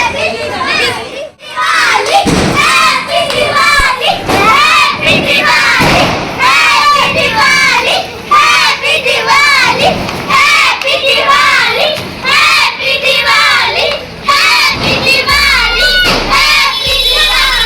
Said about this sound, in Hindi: और ये थे हमारे गली की कुछ चिल्लर पार्टी, और जो बहुत तेज शोर मचा रहे थे भाई।